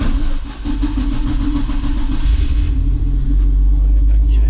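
A Nissan Skyline R34 GT-R engine cranks and fires, settling into a loud, deep, rumbling idle that swells near the end.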